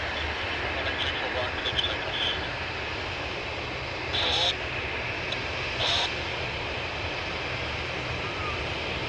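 A Singapore Airlines Boeing 777 taxis at Sydney Airport toward runway 34 left, a steady distant jet-engine roar and whine holding level throughout, with a couple of brief brighter bursts of noise.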